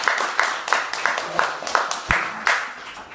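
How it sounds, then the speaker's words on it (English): Applause from an audience in a classroom forum, rhythmic unison clapping at a steady beat, moderately loud and close, with a little vocal sound mixed in. "can we get a round of applause that we respect everybody's confidentiality?"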